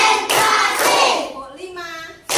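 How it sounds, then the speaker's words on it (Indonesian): A classroom of children clapping together in rhythm, dense overlapping hand claps filling most of the moment, with some voices mixed in. "Tepuk 1. Tepuk 2. Tepuk 3. Tepuk 4."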